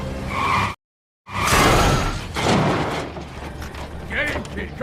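A car crashes and explodes in a loud, roaring burst of debris and rumble after a brief cut to silence, the blast noise rolling on with clattering fragments.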